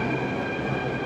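A New Delhi metro train arrives at the station, a loud, steady rumble of wheels with a sustained high squeal, close by and alone.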